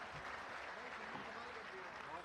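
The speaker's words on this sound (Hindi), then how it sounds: "एक बार जोरदार तालियां इसरो के लिए सारे लोग बजाइए" Applause from a big audience at a Hindi comedy poetry stage show at the Jalore Mahotsav, a steady broad wash of clapping that fills the whole short stretch, with some crowd voices mixed in.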